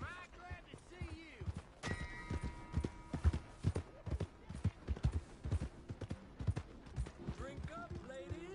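In the video game Red Dead Redemption 2, a horse's hooves clip-clop in a steady walking rhythm, with a brief whinny, while someone talks over it.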